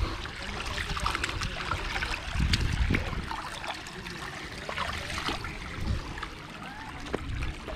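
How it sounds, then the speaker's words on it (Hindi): A water stream flows through a wadi at Wadi Al Qor, a steady close trickling and burbling with a few heavier low splashes mixed in, with no talking. "ये देखें सारा पानी बहता हुआ जा रहा है"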